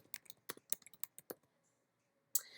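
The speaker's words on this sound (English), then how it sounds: "I'm just gonna type Barcelona, Spain again." Quick bursts of keystrokes on a computer keyboard, close and crisp, about a dozen clicks over the first second and a half, then quiet, then one final louder tap.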